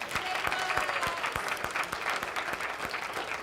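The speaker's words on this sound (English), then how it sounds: "How about a bigger round of applause for that?" A congregation applauds at a Memorial Day service, steady, full clapping from a mid-sized crowd sustained throughout with no talk over it.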